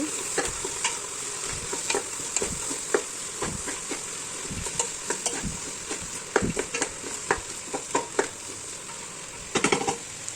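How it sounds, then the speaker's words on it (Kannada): Vegetables frying in tempering oil for veg pulao, a steady hiss under frequent sharp clicks and scrapes of a spoon stirring in the pan, close and free of speech. "ತರಕಾರಿ ಕೂಡ ಒಂದು 10 ನಿಮಿಷ ಚೆನ್ನಾಗಿ ಫ್ರೈ ಆಗಬೇಕು."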